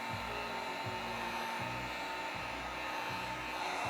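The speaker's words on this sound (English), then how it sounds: "With the heat gun, I can apply as much heat as I choose." A heat gun blows over an acrylic paint pour, a steady loud whooshing roar with a low, pulsing fan hum that holds throughout.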